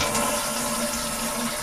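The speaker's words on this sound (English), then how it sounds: "when the water level in the tank drops with a flush" A toilet tank flushing as part of a siphon water-saver setup, heard as a steady, close rush of draining water that runs the whole stretch with no pauses.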